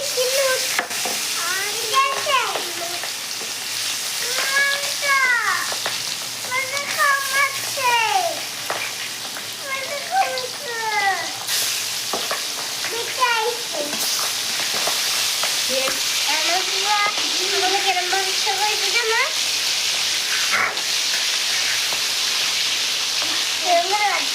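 Tol fish frying in hot oil in a home kitchen, a steady loud sizzle with crackling and stirring that runs the whole time, overlaid by recurring high chirpy calls or voices.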